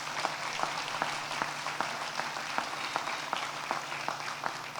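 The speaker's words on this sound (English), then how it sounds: "Give him a big round of applause." Steady applause rises from a crowd at a grand opening ribbon cutting and dedication ceremony, heard as a continuous wash of clapping with some sharper individual claps standing out.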